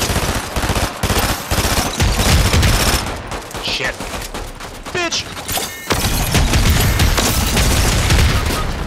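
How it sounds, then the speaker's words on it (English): Dense bursts of automatic gunfire and booming explosions in a Fortnite squads match, loud and nearly continuous with a brief lull midway, while players shout and talk over the action. "There was so much explosion, I didn't know what was going on."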